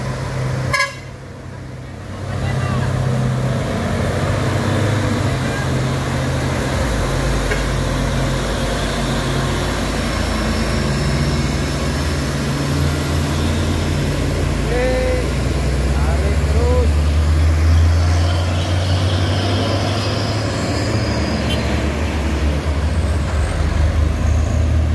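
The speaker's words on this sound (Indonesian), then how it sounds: "Ada lagi bus yang menyalip, bus KLS." Buses and trucks climbing an uphill road at Purwo, with a bus overtaking from the right; loud, steady engine drone with rumbling passes and brief horn toots, heard from close by with some talk.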